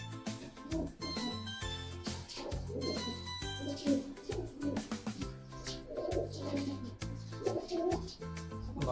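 Caged pigeons coo while being fed almonds: a continuous, fairly loud run of low, rolling coos layered over steady tonal sound, with no pause across the stretch.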